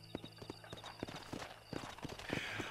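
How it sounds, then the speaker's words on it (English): Horse hooves clip-clop in the Red Dead Redemption video game, a rhythmic run of hoofbeats drawing closer and growing louder, with no talking. "As soon as my horse gets over here."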